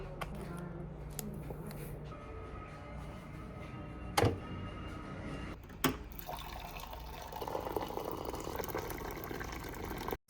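Water splashes in a steady wet wash, with two sharp, louder splashes standing out partway through.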